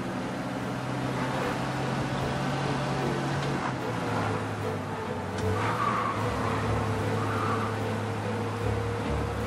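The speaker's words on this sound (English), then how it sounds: "We lose them by driving real fast and getting clear of them." A car in the Mafia video game speeds away from police, its engine droning steadily at moderate distance with brief tire squeals and skids over a continuous road rumble, no talk.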